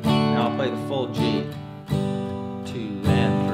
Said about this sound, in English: Now I'll play the full G.